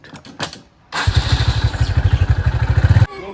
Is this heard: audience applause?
no